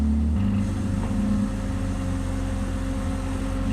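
A BMW 328ic E36-engined kart drives on a test run, its engine a steady low drone with a prominent low rumble and a slight drop in level partway through, with no speech.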